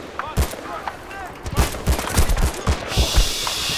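Sniper rifle and other gunfire in the video game Battlefield Bad Company 2 campaign: several sharp, loud shots and bursts in an uneven rhythm, mixed with game noise and a voice speaking.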